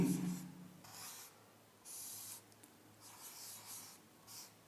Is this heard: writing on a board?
yes